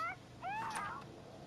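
A cat meows in the South Park The Fractured But Whole video game, giving two or three short, rising and falling meows that are fairly quiet and close, with no talking.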